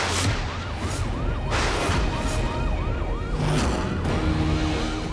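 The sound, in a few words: police siren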